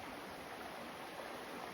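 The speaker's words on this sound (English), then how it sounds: "just an absolutely beautiful spot and creek to wash up in" A creek flows beside a campsite in a canyon near Sierra City on the Pacific Crest Trail, giving a steady, even rush of water with no voices.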